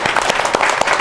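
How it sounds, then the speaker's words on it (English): An audience applauds in a brief, loud burst of dense clapping, close and continuous. "Clap for that."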